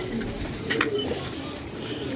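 Chinese pigeon perched outdoors, a short soft coo near the middle over a quiet background hum, heard alone.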